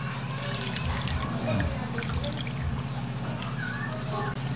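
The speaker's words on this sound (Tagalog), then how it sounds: "Maglalagay din tayo ng konting broth." Pork broth is poured into a cooking dish over a soft, steady liquid splash and trickle, close by, partly under a voice talking.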